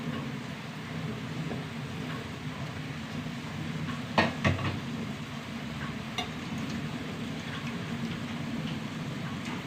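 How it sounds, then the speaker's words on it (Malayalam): Steady rain falls outside during Onam cooking as a soft, even hiss, with a couple of sharp clicks partway through and no voices. "മഴ നോക്ക് ഓണമായിട്ട് തിരുവോണത്തിന് പെയ്യാതിരുന്നാൽ മതിയായിരുന്നു"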